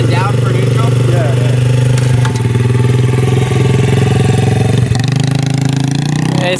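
A motorcycle engine with a high idle runs loud and close, a deep, throbbing drone with slight clatter and small rises in pitch, while people talk over it.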